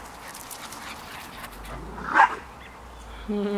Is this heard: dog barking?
yes